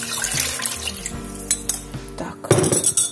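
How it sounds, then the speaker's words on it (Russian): Water runs from a kitchen tap into a cooking pot while soup is being made, a close splashing stream followed by clinks and clatter of cookware near the end. "И еще мне нужна жидкость. Я беру прямо из крана."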